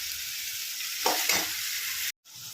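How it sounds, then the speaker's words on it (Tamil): Onions and tomatoes sautéing in a pan for a village-style peanut kuzhambu, a steady broadband sizzle with a couple of stirring scrapes in the middle and a brief dropout near the end, no talking. "வெங்காயம் வதங்கின பிறகு தக்காளி சேர்த்துக்கிட்டேன். தக்காளியும் சேர்த்து வதக்கி எடுத்துக்கலாம்."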